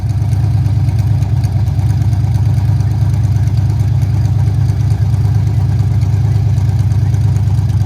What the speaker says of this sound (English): See if we can get the misfiring to stop and get it run smooth again.